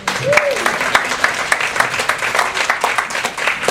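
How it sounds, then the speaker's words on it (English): An audience applauds a staff group called up front at a heart-smart nutrition event, with dense irregular clapping under a few cheers and a short whoop. "Give them a big round of applause."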